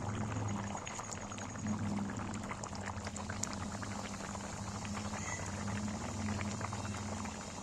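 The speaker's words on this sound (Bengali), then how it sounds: "এইবার আমি ভেজে রাখা এঁচড় তুলে দিচ্ছি" Fried jackfruit going into a thick, simmering curry with potatoes, a low steady bubbling and soft liquid gurgle, quiet and close, with no one talking.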